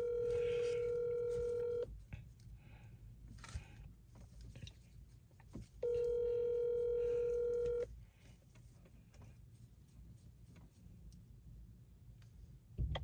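An outgoing phone call rings out with two long electronic ringback tones separated by a pause, over faint background noise.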